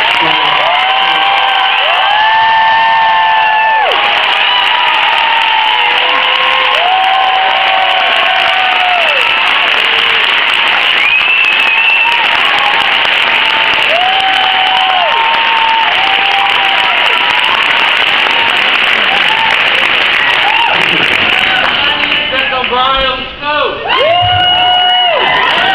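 Sustained audience applause with cheering and whoops at a Bennington College commencement, welcoming speaker Bryan Conover; loud, dense clapping fills the whole stretch, with scattered voices calling out over it.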